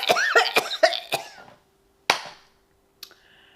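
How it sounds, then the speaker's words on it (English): A woman coughs five times in a quick, harsh run, pauses, then gives one more sharp cough and a faint click close to the microphone. "as soon as I turn this camera on, here I am coughing"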